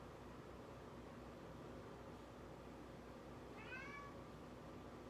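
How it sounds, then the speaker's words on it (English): A pet cat meows a few times at its toy, a short faint rising call about two-thirds through, heard distantly over a steady hiss of room noise. "He's meowing at his toy."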